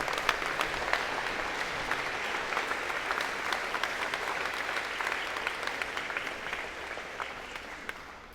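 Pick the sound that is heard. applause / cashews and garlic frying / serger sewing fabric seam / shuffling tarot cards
applause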